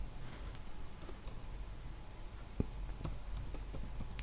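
Typing on a computer keyboard while filling in an Excel salary slip, a steady patter of soft key clicks with a few sharper taps, faint and close over a low background hum.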